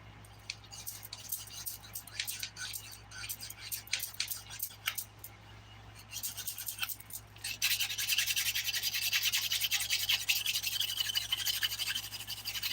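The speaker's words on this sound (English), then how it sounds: "I'm using the 180 grit side of the file" Someone files fingernails with the 180-grit side of a nail file. Close, rhythmic scratchy strokes come first, then turn into a denser, steadier rasping that continues to the end.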